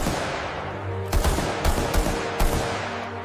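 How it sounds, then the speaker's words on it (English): Bursts of machine gun fire, several sharp rapid volleys cracking out over a low rumbling background, loud and close with brief gaps between the bursts. "they were pinned down by machine gun fire."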